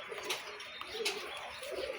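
Racing pigeons at a pigeon club coo softly in a few low, brief calls, faint and fairly near, with no talk.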